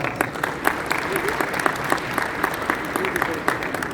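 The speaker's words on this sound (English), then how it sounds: "Let's give CIOGC a round of applause." A gala crowd at a community organization's 30th anniversary applauds steadily, dense clapping from many hands filling a hall at moderate distance with a faint voice underneath.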